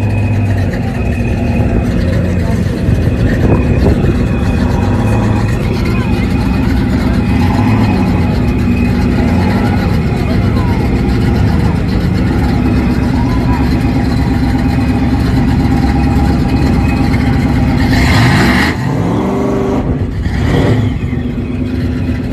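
A Ford Mustang 5.0 S197 engine revs loudly and steadily at a drag race, with the sound pitching up and down. Another car passes in a quick sweep near the end, and voices talk underneath.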